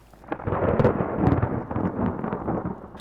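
A massive lightning strike's thunder rumbles loudly and close, rolling deep booms with crackling bursts that swell and linger over faint rain.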